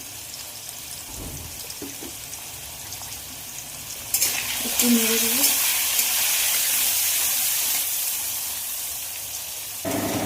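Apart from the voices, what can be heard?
potatoes frying in a pan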